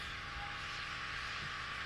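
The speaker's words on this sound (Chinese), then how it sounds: "那有一台飞机要飞了哈、哦、，ANA 的、哦。" An ANA airplane taking off at New Chitose Airport in Hokkaido, a steady distant jet roar holding level throughout, no voices.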